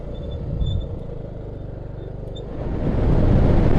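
A Rakuta 150cc Chinese scooter engine revving at full throttle while riding through town, a steady buzzing drone that swells louder toward the end over road and wind rumble.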